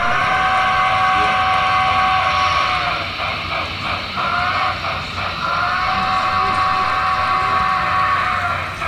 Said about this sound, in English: Man, that whistle on this engine sounds so good, especially that bell.